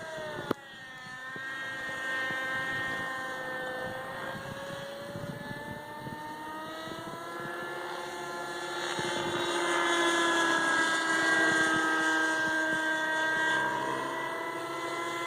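A Kyosho Cal 30 RC model helicopter flies outdoors in wind, its high engine whine and rotor drone rising and falling in pitch as it moves nearby, steady and fairly loud without speech.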